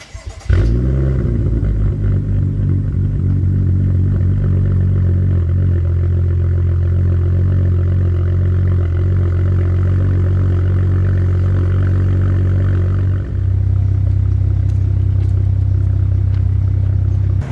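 A BMW F10 535i with muffler and resonator deleted cold-starts, cranking and firing up, then settles into a loud, raspy, unmuffled idle with a steady rumbling drone that continues throughout, no talking.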